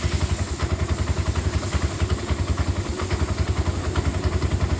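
A Bajaj motorcycle engine idling steadily after a stepper motor repair, close and loud with a regular low thumping pulse and mechanical clatter, running on its own with no throttle.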